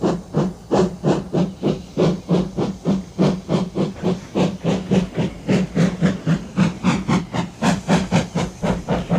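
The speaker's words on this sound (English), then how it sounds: "So the fireman lit the fire and made a nice lot of steam." A steam locomotive puffs steadily, its close, loud chuffs of escaping steam beating in an even, rapid rhythm for the whole stretch, with no voices.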